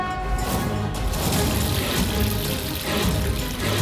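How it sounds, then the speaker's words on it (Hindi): Water poured onto vermilion sindoor powder, heard as a steady, continuous splashing rush of liquid that holds at a fairly loud level throughout, with no talk over it. "और सिंदूर पर पानी क्यों डाली?"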